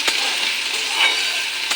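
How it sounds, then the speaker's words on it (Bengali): Cauliflower frying in a pan, cooked for a savory semolina snack, gives a steady, close sizzle that holds evenly throughout, with a couple of brief stirring clicks near the start and end. "ফুলকপিটাও ভাজা করে নিই"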